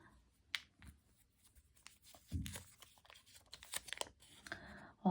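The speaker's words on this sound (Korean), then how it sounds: "메시지 카드 2장을 뽑아보도록 하겠습니다" Tarot message cards being drawn and handled, with papery tearing- and crinkling-like rustles, a few sharp card snaps and a low thump, scattered through the short stretch with quieter gaps and no talk.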